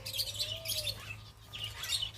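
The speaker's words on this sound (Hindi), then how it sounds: "तोते हैं और क्या है ये?" Parrots and other birds at a farm house give faint chirps and tweets, including one clear rising-falling whistled call early on, with scattered soft twittering after it.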